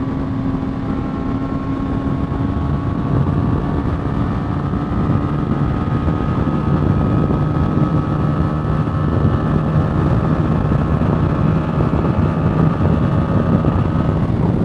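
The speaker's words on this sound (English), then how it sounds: "the engine is buzzing so much in order to do that" A 2020 BMW G 310 R motorcycle at speed, loud, steady engine buzz at high revs, a constant whining drone with wind noise, sustained throughout without pause.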